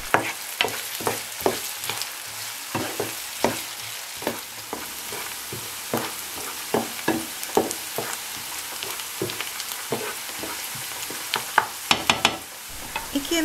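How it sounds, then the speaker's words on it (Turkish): Chopped onions sauté over medium heat, stirred continuously until lightly pink, with a steady close sizzle broken by frequent sharp spoon scrapes and clicks against the pan throughout. "Soğanları sürekli karıştırarak şöyle hafif pembe bir renk alana kadar orta ısıda kavurdum."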